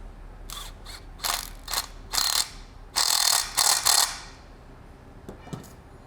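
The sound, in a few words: impact wrench loosening a saw nut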